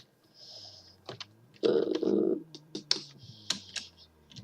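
Computer keyboard typing in bursts of quick clicks and clatter, close and fairly quiet, with a voice briefly speaking between the keystrokes.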